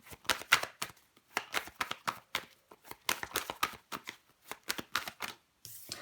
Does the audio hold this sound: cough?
no